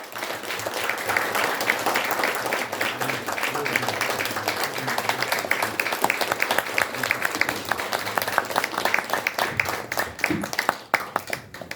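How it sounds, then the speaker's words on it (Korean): A hall audience claps warmly during a bouquet presentation at a commemorative launch ceremony, the applause dense and continuous throughout, with a slight swell and uneven bursts toward the end. "뜨거운 박수 부탁드립니다."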